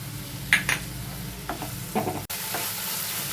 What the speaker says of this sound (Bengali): পেঁয়াজটা ভেজে নিয়ে এবার মশলাটা দিয়ে দেবো। আদা রসুন পেস্টটা দিয়ে দিচ্ছি।